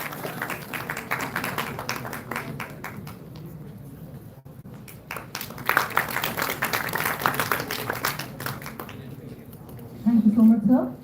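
Audience applause fills a hall at an institutional ceremony during a memento presentation, irregular claps and a sustained clapping wash mixed with voices speaking over it.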